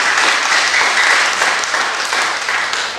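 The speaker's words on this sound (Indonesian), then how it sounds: "Kita berikan tepuk tangan dulu buat tim pujian dong." Dense, continuous applause from a church congregation for the worship team, many hands clapping steadily at close range with no voices over it.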